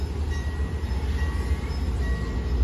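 Train halted at a station on the Pasuruan–Surabaya line, a steady low rumble of idling engine and equipment with faint high whine, close and continuous, no voices.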